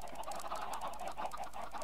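A flock of video game chickens clucks and murmurs steadily throughout, a dense, even layer of bird chatter with no voices.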